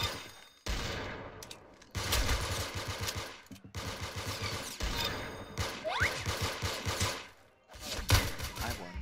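Bursts of rapid staple rifle fire crackle in a shooter video game, coming in several loud clusters separated by brief pauses, with faint clatter between volleys.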